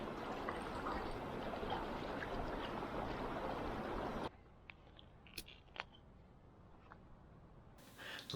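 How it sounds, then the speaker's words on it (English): Creek water rushing and splashing at the end of West Tillman Trail in George Washington National Forest, loud and steady for about four seconds, then dropping to a faint background trickle with a few small splashes. "you have a nice creek to rinse off in and relax by"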